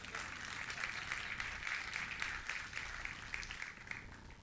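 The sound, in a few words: congregation applause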